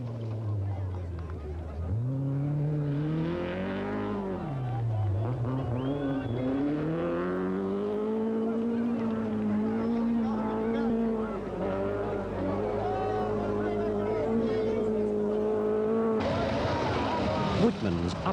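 Rally cars race on the 1982 Acropolis Rally, engines revving and shifting in rising and falling whines under continuous commentary, with a louder burst of engine noise near the end.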